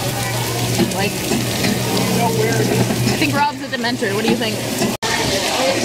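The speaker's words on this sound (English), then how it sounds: "it starts pouring rain." Steady heavy rain hisses loudly throughout, with voices talking over the downpour.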